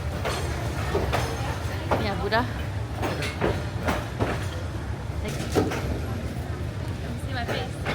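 A train rolls slowly along Hanoi's narrow Train Street between houses, a low rumble and clatter of wheels close by, with bright squeals rising and falling as it passes while people talk nearby.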